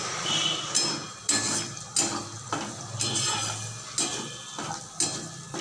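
Vegetables sizzle steadily in a pan for khichuri while a spatula stirs them, each stroke scraping and clinking sharply against the metal at a fairly regular pace of roughly one per second, close and clear with no talking.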